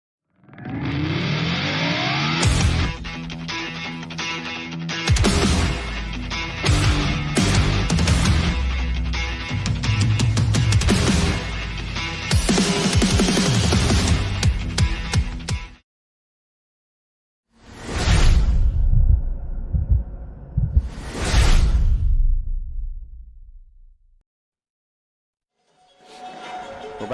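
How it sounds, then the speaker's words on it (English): A new stadium projection screen and scoreboard running at a high school football game, heard as a loud, dense mechanical and electronic roar that fills most of the clip, cuts out briefly, then returns in a shorter burst. "That sound you hear in the background is the new projection screen that is going on, and scoreboard. It's loud."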